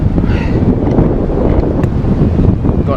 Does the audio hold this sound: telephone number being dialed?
no